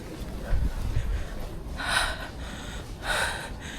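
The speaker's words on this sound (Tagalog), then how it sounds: "Hinihingal ako." A person breathing heavily after climbing during a group tour: two loud, airy gasping breaths a little over a second apart, close to the microphone, over a low rumbling background.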